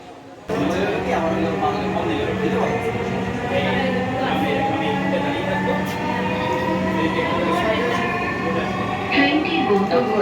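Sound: metro train riding

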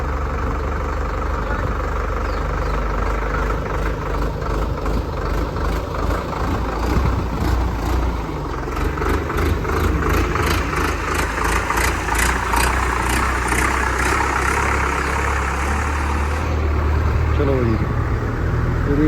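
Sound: tractor diesel engine idling

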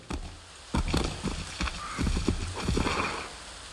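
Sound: video game horse galloping and neighing

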